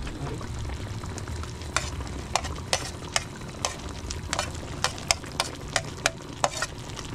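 Chili and salt frying in a pan, with steady sizzling and repeated sharp clicks of a utensil stirring at close range.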